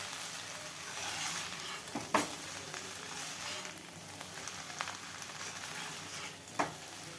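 Noodles are stir-fried with noodle masala and capsicum in a low, even sizzle, with two distinct spatula scrapes against the pan. The sound is fairly quiet, with no talking.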